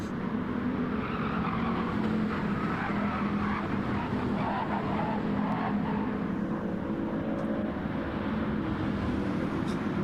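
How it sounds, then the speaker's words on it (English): A race car in a sim racing game slides around the final turn, engine roaring steadily at high revs with a continuous rough, scrubbing tire noise, loud and close throughout. "sliding around the final turn and have to avoid the driver that runs in reverse still with race number 88."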